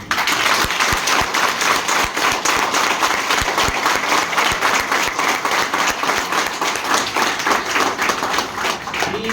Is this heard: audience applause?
yes